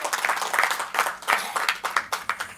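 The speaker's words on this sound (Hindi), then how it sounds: "तो एक बार इस बात पे भी ताली बजा दो इनके लिए।" Applause at a national seminar, a brief round of clapping from a seated audience, irregular claps rising and fading over a couple of seconds without talk.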